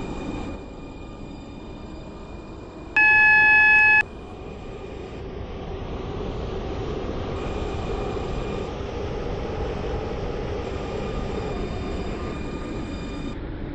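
Class 707 electric train in the Stepford County Railway video game running steadily, with a continuous low rumble and hum, broken by a short, loud electronic chime near the start and faint tonal whines over the motion.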